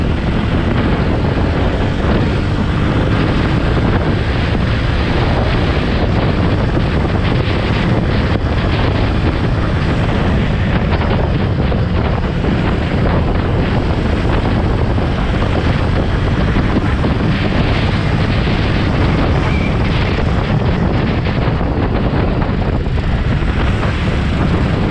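Jawa Forty Two 2.1 motorcycle from 2021 with a new engine, accelerating hard on the road, a loud continuous engine drone heavily buffeted by wind noise throughout, with no talking.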